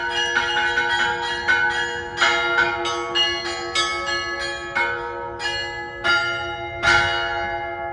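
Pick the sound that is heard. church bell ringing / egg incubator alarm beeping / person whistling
church bell ringing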